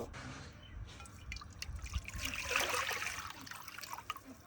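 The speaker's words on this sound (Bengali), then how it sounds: "এবার আমি একটা কড়াইতে পানি দিয়ে দেব" Water trickles and splashes into a wok in a kitchen, a faint, uneven pour with small drips and gurgles, quiet and close with some low background rumble.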